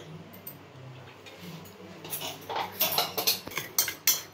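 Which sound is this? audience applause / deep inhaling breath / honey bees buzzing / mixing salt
mixing salt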